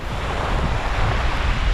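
Sea waves washing in steadily at Las Salinas Beach in Ibiza, a calm, continuous wash of surf with some wind noise on the microphone and no voices.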